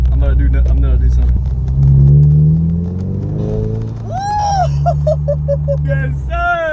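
A repaired car, rebuilt after a wreck, on its first test drive: the engine hums and climbs in pitch as it accelerates, close and steady beneath near-constant excited talk from the people inside.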